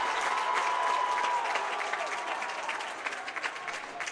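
The home crowd at a college men's basketball game, Earlham against Albion, cheers and applauds after a made basket. The applause is loud and sustained, then gradually thins.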